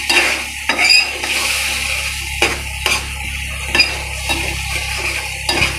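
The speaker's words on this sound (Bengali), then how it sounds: "গরম পানি দিয়ে এখন সুন্দর করে কষিয়ে নিতে হবে" Spice masala cooking down with hot water in a pan, bubbling sizzle under repeated metal spatula scrapes and clinks against the pan, close and fairly loud, with no voices.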